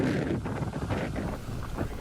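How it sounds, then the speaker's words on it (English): Powerful storm wind gusts roar through downtown Houston during Storm Beryl, a loud, continuous rushing buffet with fluctuating surges battering the microphone. "That's what those powerful wind gusts sounded like as they blew through downtown Houston."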